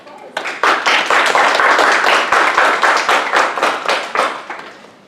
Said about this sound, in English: Let's give a round of applause.